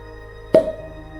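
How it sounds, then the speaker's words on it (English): A cork pops out of a Bumbu Rum bottle: one sharp, close pop with a short ringing tail, standing out over a low, steady background hum. "That's a particularly satisfying pop from the cork."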